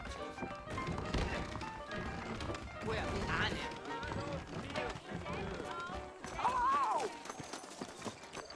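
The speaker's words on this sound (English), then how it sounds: "I got the horses saddled up and ready out front" Horses trotting in the video game Red Dead Redemption, a steady clip-clop of hooves with a brief whinny, running under continuous conversation and music.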